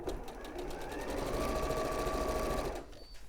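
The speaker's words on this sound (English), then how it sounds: "I'm going to sew this all the way around the edge." A sewing machine runs steadily along a fabric edge, a close continuous whirring hum with rapid needle clatter that rises slightly midway and stops near the end.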